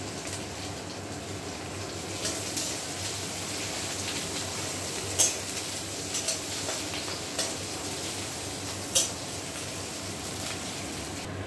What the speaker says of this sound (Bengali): এবার কড়াইতে দিয়ে দিচ্ছি কেটে রাখা পেঁয়াজটা।